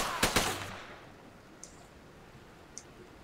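Two quick sniper shots ring out close together in a Joint Operations military video game, followed by a decaying echo and two faint, distant clicks or pops later on.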